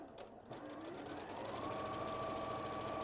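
A sewing machine runs a quarter-inch seam along small fabric strips with a quarter-inch presser foot, its motor whirring steadily and rising slightly in pitch, close and alone.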